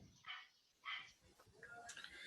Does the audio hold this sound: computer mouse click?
no